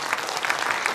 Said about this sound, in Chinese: 我们给他拍拍手一下。